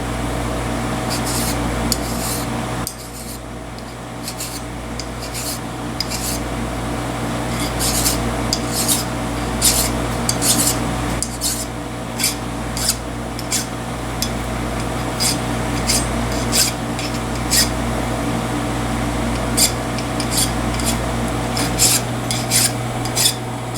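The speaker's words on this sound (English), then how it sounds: "let's get some burrs off of it" A machined metal carriage stop body is hand-deburred in a shop with quick, scratchy filing strokes in an irregular rhythm over a steady motor hum.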